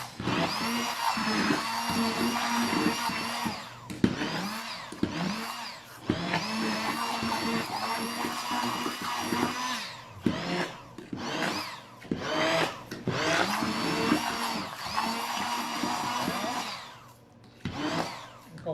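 An old electric food mill whirs in uneven bursts while puréeing food, motor pitch rising and falling as it churns, close by with short stops between runs.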